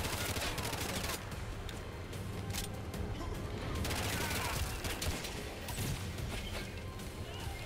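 Rapid automatic fire from a machine gun pistol in the shooter Bright Memory: Infinite, a dense unbroken rattle of shots running the whole time, loud and close amid game effects.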